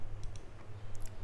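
A few soft computer mouse clicks while working in an Excel spreadsheet, quiet and close over a low steady hum.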